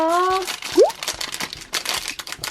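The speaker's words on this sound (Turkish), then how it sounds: "yedek saçlarımızın içinden çıkacak olan poşetleri bir açıp görelim" Plastic packets from an LOL Surprise doll set are torn open, giving close, sharp crinkling and rustling bursts, while a voice talks briefly at the start.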